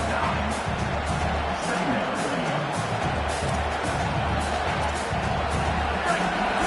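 A large stadium crowd in the NCAA Football 27 video game, a loud continuous roar of cheering and babble that holds steady throughout with brief swells, and a voice speaks over it.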